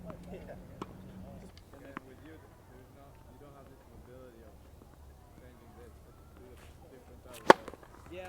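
A tennis serve from a Division I college player: one sharp, loud crack of racket striking ball near the end, after quiet court ambience with a few fainter knocks and some talk earlier.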